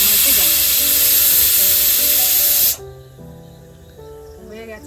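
A pressure cooker whistle hisses loudly with a sustained steam jet while chicken vapa cooks, then cuts off abruptly partway through, leaving quieter kitchen sounds and someone speaking.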